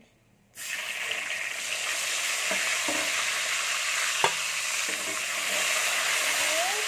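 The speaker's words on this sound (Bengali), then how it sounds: "টমেটোটাকে একটু নেড়ে নিচ্ছি" A steady loud sizzle of chopped tomato frying in oil begins abruptly, with occasional scrapes and clinks of stirring close up.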